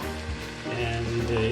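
Spring onions sizzle steadily in a hot pan for Chinese fried rice, a close, continuous frying hiss with some stirring, with no talk over it.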